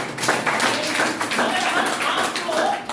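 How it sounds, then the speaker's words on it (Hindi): An audience clapping loudly at a business seminar, a close, dense burst of hand claps with uneven rhythmic surges, filling the moment without talk over it. "एक बार जोरदार ताली बजाइए।"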